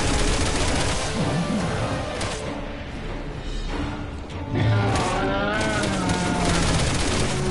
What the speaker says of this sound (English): another sniper shooting through a building